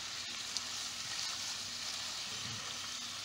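Baby spinach wilts in a hot pan with a steady, soft broadband sizzle and a few faint stirring clicks, no voices.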